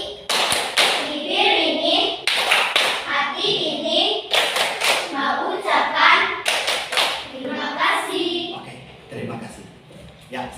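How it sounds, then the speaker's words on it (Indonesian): Hand clapping by a group, loud and close, in several rhythmic bursts of quick claps that alternate with people chanting together. "Tepuk terima kasih."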